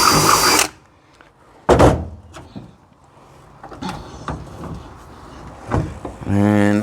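Power drill boring a hole through the hull of a 1958 Feathercraft Vagabond aluminum boat, heard in a few short loud bursts with pauses between, alongside rattling tool handling and a brief whirring run at the end.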